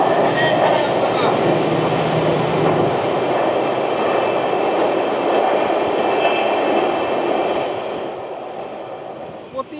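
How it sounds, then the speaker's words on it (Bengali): Sairang Kolkata Express pulling out of Sairang station in Mizoram, heard from aboard as a loud, steady rumble and roar of the running train that fades toward the end. "ট্রেন ছেড়ে যাচ্ছে সাইরাং স্টেশন"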